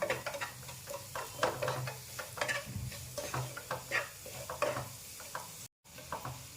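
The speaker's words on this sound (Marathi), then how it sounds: "मसाल्यामध्ये ते देखील मिक्स करून घ्यायचं आहे" Salt mixed into an onion-tomato masala in a pan for cashew curry, a run of rhythmic spoon scrapes and taps over a low sizzle, close and quiet, briefly cutting out near the end.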